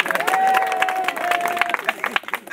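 An audience claps and cheers for a football coach, a short burst of crowd applause with voices mixed in, lively and fairly close.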